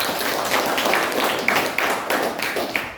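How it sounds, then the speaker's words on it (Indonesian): Classroom applause for a student group presentation, a steady patter of clapping with a few sharper claps standing out near the end. "kita berikan tepuk tangan untuk."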